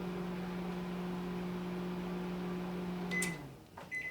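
A microwave oven hums steadily while melting candles and crayons, then stops about three seconds in and beeps twice, close and clear in a quiet room.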